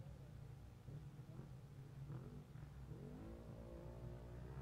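An off-road race truck drives past with a steady mid-pitched engine roar that rises in pitch toward the end, under continuous crowd and ambient noise.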